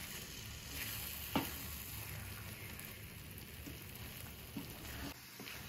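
Tomatoes fry in a pan for red chilli pickle, giving a steady soft sizzle with faint crackles and an occasional stir or clink, quiet and continuous throughout.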